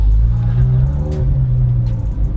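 A Mercedes GLC pulls away nearby, its engine a steady low rumble that rises slightly as it drives off, with faint voices in the background.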